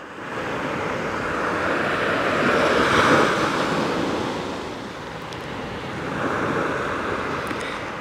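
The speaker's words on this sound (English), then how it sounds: "Not only will you hear the beautiful waves coming in and out, ebbing and flowing" Ocean waves washing onto a beach, a steady loud roar of surf that swells and recedes twice with some wind noise, no voices.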